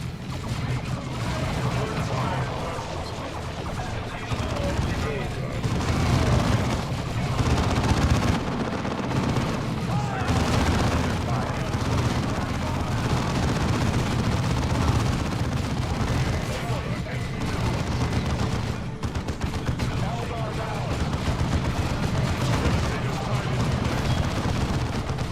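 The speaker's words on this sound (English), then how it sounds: "Targets here under heavy auto fire." Dense, sustained heavy automatic fire and booming explosions from a Dawn of War II battle, loud and continuous throughout with bursts layered over one another and voices speaking amid the din.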